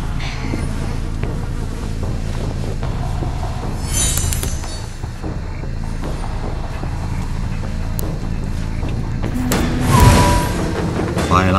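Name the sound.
train riding along rails in a video game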